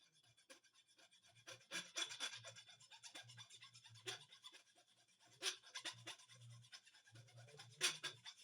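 A metal file rasps across an old hi-hat cymbal stand part in short, uneven strokes. The scraping is close but quiet, with brief pauses between the bursts.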